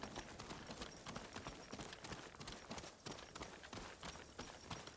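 Horse hooves gallop steadily in Ghost of Tsushima, a dense, fast clip-clop rhythm that runs close and loud throughout with no pauses.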